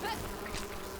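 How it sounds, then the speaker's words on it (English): Brief, faint buzzing of bees swarming from a beehive in a tree in the video game Enshrouded, a soft close hum lasting about a second with no talk. "and I have bees now."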